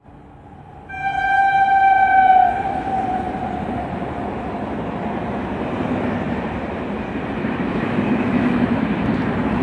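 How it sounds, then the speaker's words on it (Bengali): A MEMU passenger train pulls into Sardiya station in Jhargram district, sounding a loud, sustained horn blast before a rolling rumble of wheels and carriages carries on steadily to the end. "ট্রেন আমাদের চলে এসছে ঝাড়গ্রাম জেলার প্রথম স্টপ সারদিয়াতে।"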